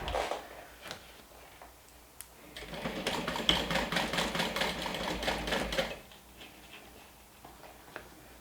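A sewing machine stitches fabric with a quarter-inch seam allowance in a steady rapid run of about three seconds, preceded and followed by quieter handling clicks, close and alone.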